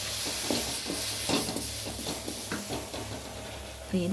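Washed cumin seeds roasting in a pan, a soft steady sizzle with light scraping and stirring taps throughout, close and fairly quiet.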